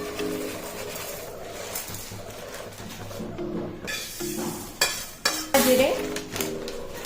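Whole spices, including cardamom and cumin, dry roasting in a pan over low heat, with a spoon scraping and stirring and occasional louder clinks against the pan, close and uneven, with faint background voices.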